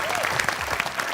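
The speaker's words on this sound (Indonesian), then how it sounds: "Kita berikan tepuk tangan untuk ketiga peserta kita." Studio audience clapping for three contestants on an Indonesian word-game quiz show, a steady dense round of applause filling the whole moment at moderate loudness.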